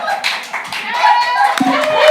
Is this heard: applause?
yes